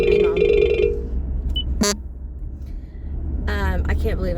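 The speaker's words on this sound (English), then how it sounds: "Oh Lord, there's a phone call." A phone rings for an incoming call, a short bright electronic ringtone up close at the start, followed by a sharp click and then a person speaking.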